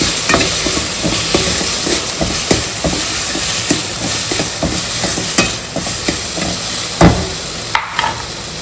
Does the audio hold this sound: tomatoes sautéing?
yes